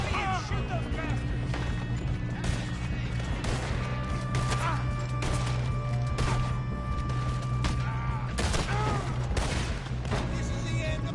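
Bursts of gunfire fill a video game shootout, with sharp crackling shots repeating close up over a constant loud background of action, and voices shouting now and then.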